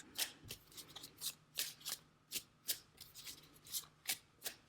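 A deck of tarot cards drawn and shuffled by hand, about a dozen sharp riffling snaps in a steady rhythm, close-up and quiet, with no voices.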